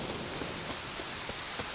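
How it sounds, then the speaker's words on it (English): Steady rain in The Witcher 3, a dense even hiss of falling water with no voices and a few faint, soft thumps within the wash. "Looks like rain."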